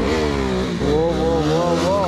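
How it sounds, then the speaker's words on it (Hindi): A KTM Duke 390 motorcycle engine revs up close before stunt riding, the pitch rising and falling in wavering swells, with voices talking over it. "सो गाइस फाइनली ड्यूक 390 के ऊपर अब स्टंटिंग होने वाली है"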